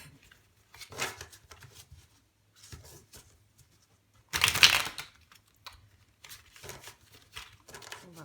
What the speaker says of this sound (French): Brasser un dernier coup et on va voir, on va recouvrir.